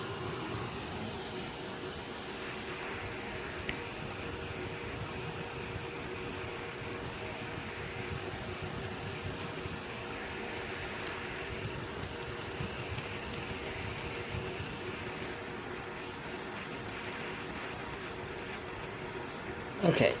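Two Vornado fans, one running on high and one on medium, make a steady, even whoosh of moving air that holds constant throughout without a break.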